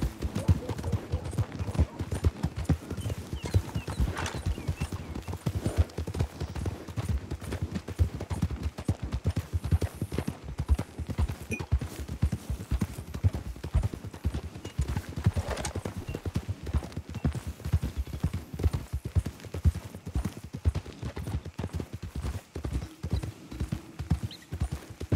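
Horse hooves clip-clop steadily through the full stretch in Red Dead Redemption 2, a dense rhythmic patter of hoofbeats that stays close and fairly loud.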